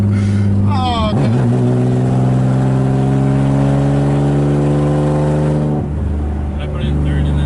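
A BMW E36 engine drones loudly and close, with a shift and then a long steady pull as revs climb in third gear, before easing off, while people talk inside the car.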